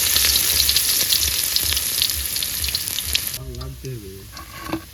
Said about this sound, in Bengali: আমাদের তেল গরম হয়ে গেছে, এখন আমরা রসুনটা দিয়ে দেবো।